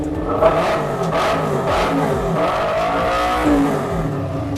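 A Kawasaki Ninja 250 motorcycle engine revs loudly and close by in a steady, throaty drone, its pitch swelling and dipping slightly with light throttle blips.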